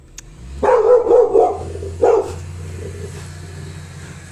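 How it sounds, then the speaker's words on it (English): A dog barking defensively indoors: a quick cluster of several sharp, loud barks, a pause, then one more bark, over a low steady background hum. "the dog got very defensive there"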